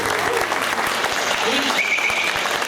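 Audience applause for a manjira cymbal player, steady dense clapping throughout the short stretch with some voices mixed in.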